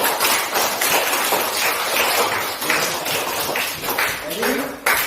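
Classroom of students clapping for a group that has just presented, a dense burst of many hands tapping across the whole clip, close and steady, with voices mixed in.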